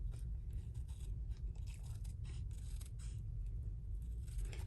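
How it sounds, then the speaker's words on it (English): Older Stampin' Up craft scissors cut through paper close by, giving a steady run of crisp snipping and scraping with no voices. "I have some older Stampin' Up scissors"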